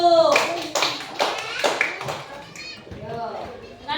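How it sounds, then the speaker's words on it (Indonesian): Children in a primary school classroom clap together in a few short bursts while kids chatter and call out over the applause. "tepuk tangan untuk kelompok 1"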